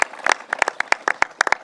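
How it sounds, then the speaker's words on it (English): Scattered applause from a small audience at a government press event, a few pairs of hands clapping unevenly in sharp, separate bursts rather than a full ovation. "let's give them a round of applause"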